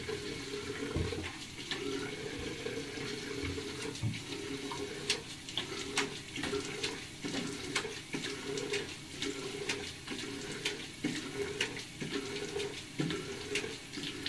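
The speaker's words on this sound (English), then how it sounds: "Always be sure to rinse your face with warm water" Warm tap water runs steadily into a sink while someone rinses their face after shaving. The splashing is close and moderate, broken by irregular hand splashes and drips, with no talk.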